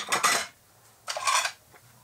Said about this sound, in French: Alors là, j'équipe les valises pour la vaisselle.